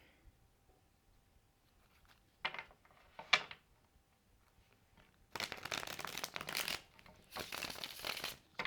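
Tarot cards are handled quietly at first with a couple of soft taps, then shuffled in two longer, brisk riffling bursts, close and clear with no voices.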